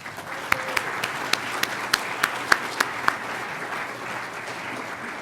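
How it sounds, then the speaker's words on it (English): A conference audience at a family gathering applauds support group leaders: a soft, steady wash of clapping with a handful of sharper individual claps standing out, moderately distant, for about five seconds. "I'd also like to give a big round of applause to all of our support group leaders"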